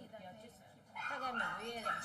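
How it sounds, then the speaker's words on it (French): A small pet dog in Beijing whimpers and gives high, whiny yips close by, the cries growing louder and more insistent partway through, with a voice in the background. "Pour la maîtresse de Jimmy, son chien mérite le même traitement qu'un humain."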